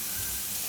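Cumin seeds sizzling in hot salted oil with garlic in a pan over a low gas flame, a soft, steady crackling hiss that stays faint and even through the brief moment.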